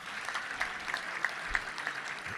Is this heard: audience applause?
yes